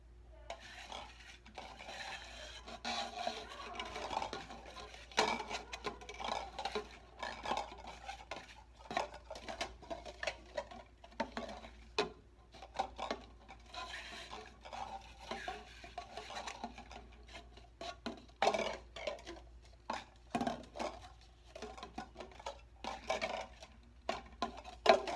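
Cups shuffled around on a table for a guessing game, sliding and clinking in irregular bursts of scraping and knocking, fairly faint and close, with no talking.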